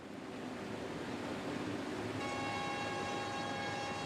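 A test rail car on the Qinghai-Tibet Railway rumbles steadily along the track, a low continuous roar that gains a high metallic whine partway through, no voices.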